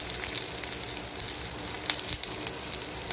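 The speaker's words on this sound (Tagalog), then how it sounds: "Ayan, gisa-gisa lang muna tayo." Onions sautéing with garlic in a pan while cooking coconut-milk prawns, a dense, steady close-up sizzle with faint crackles throughout.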